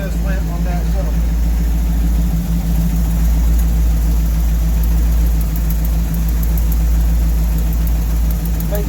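A car engine idles steadily during a cylinder power balance test, a close, low, constant hum with an even pulsing throb, while someone talks over it.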